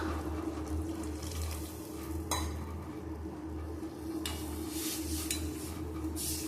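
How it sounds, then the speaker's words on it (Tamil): Tamarind water pours steadily into a pot, with a few light clinks of metal utensils against the rim. "இப்ப மீதம் இருக்கிற புளி தண்ணிகளை இது கூட சேர்த்துக்கலாம்"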